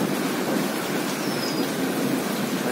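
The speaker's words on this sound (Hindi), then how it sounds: "ये बहुत तेज बारिश हो रही है" Very heavy rain pours steadily outdoors as a dense, continuous roar of water with no breaks, loud and close throughout, with no voices over it.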